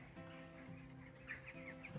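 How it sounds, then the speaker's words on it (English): An escaped backyard chicken clucks softly in short broken bursts amid steady low garden background noise, fairly faint and close by. "a chicken got out"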